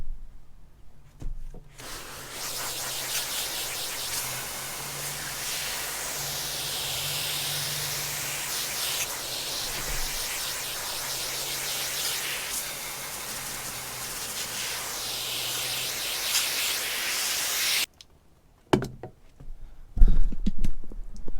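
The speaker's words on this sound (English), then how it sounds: "So let's go ahead and rinse this off and get it cleaned." Steady water spray rinsing a K&N air filter from a 2007 Ford F-150, a loud, continuous hissing spray close by for about sixteen seconds, then a few brief knocks.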